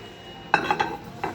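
Ceramic dinner plates handled in a supermarket tableware aisle, a few short clinks and knocks over a quiet background.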